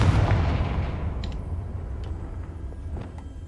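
A Confringo fire spell blasts in a Harry Potter video game, a loud booming burst at the start that rolls off into a long fading rumble with a few faint crackles.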